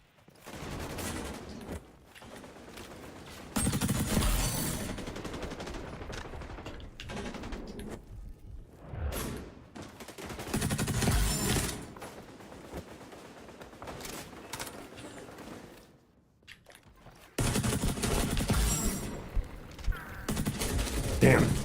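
Rapid bursts of automatic gunfire from a video game weapon, loud and dense in several stretches, mixed with game sounds and a player talking over it.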